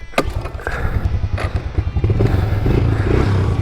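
A quad bike with a wheel problem that makes it track all over the place rides along dirt trails, its engine buzzing and rising in revs, with clattering bumps from the rough ground as it picks up speed.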